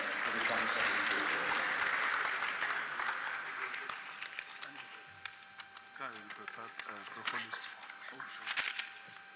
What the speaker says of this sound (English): Please, a round of applause for him as he comes to the podium